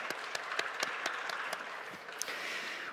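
A church congregation at a Sunday youth worship service applauds at moderate level, a steady patter of clapping with a few sharp, distinct claps standing out close by.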